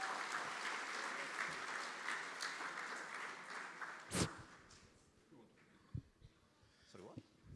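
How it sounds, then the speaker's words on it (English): A crowd applauds loudly for several seconds, then the clapping dies away into a few scattered claps and faint murmurs. "Big round of applause for Eduardo."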